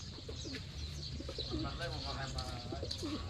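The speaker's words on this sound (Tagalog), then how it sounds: "nanggaganda rin pala ng kanyang mga alagang kalapatits" Pet pigeons kept by a breeder cooing nearby, soft repeated throaty coos from several birds over a steady background, with people talking faintly underneath.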